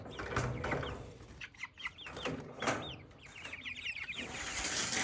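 Young meat chickens, about three weeks old, cluck and peep in a chicken tractor, a steady chorus of short chirping calls at close range with no talking.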